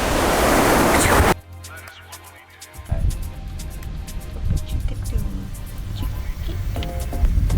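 Rough surf on a rocky shore in Washington Slagbaai National Park, Bonaire: a loud roaring wash, then a brief muffled lull before the heavy crashing and hissing water builds again.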